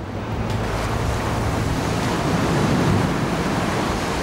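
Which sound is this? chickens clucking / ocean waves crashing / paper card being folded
ocean waves crashing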